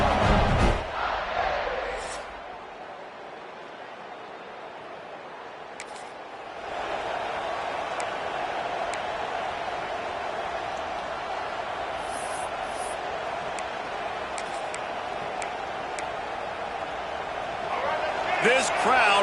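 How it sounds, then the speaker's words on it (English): Stadium crowd roaring in EA Sports College Football, a game featuring Georgia, as an ear-splitting welcome to visiting players: a sustained wash of cheering that dips briefly, then swells steadily and builds louder toward the end, under broadcast commentary. "This crowd bringing an ear-splitting welcome to their visitors."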